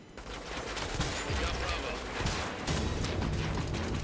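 Shots from a sniper build in a video game: a dense, steady wash of gunfire and mechanical clatter with a few sharper reports, loud and continuous throughout, no voices.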